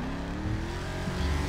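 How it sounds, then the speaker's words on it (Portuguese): A car in the video game GTA 5 drives past with a steady engine drone that rises slightly in pitch as it goes by, loud and close, with no talking. "Tá vindo um carro aqui no pau. Passou."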